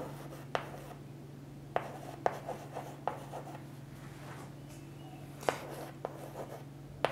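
Chalk or marker strokes on a classroom board during a grammar lesson, a few sharp taps and scratchy rubs spaced irregularly over a steady low hum, fairly close and moderate in level, with no talking.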